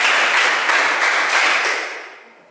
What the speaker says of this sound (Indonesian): Tepuk satu. Tepuk dua. Tepuk lima.